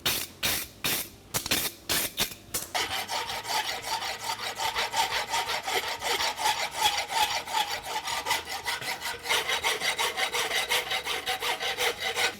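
Rasp strokes file a forged steel horseshoe at a farrier competition, starting with slow separate scrapes that settle into a fast, steady back-and-forth rhythm, close and loud with no talk.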